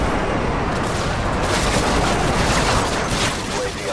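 Airstrike explosions in Call of Duty Modern Warfare 2 team deathmatch multiplayer make a continuous, heavy roar of overlapping blasts and rumble that stays loud from start to finish.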